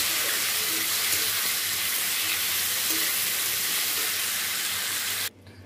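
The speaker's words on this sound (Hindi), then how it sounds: "सभी को एक साथ डाल दिया और इसको हल्के ब्राउन होने तक इसको हम फ्राई करेंगे।" Masala spices frying together in a pan until light brown, a steady loud hissing sizzle with faint stirring that cuts off abruptly near the end.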